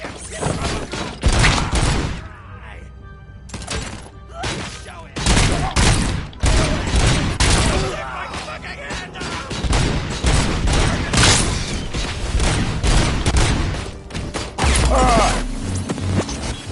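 RoboCop's gunfire rattles in a video game, repeated bursts of shots and mechanical clanks arriving in uneven clusters, loud and close, with some voices in between.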